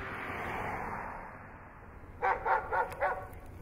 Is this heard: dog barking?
yes